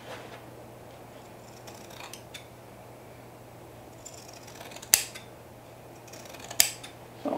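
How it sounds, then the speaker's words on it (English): Heavy pinking shears snipping through fabric while a bucket hat is sewn, quiet isolated cuts with two sharper crisp snips near the end over a low background hum. "pinking shear cut around, like so"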